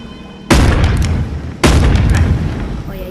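Two loud, booming gunshots in the video game Animal Company, each a sharp blast followed by a long ringing tail, about a second apart and very close.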